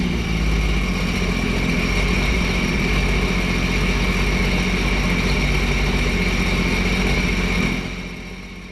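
A Sea-Doo jet ski engine idles steadily after the craft has been sunk, a continuous low rumble with a constant whine on top that holds for most of the clip, then drops away near the end.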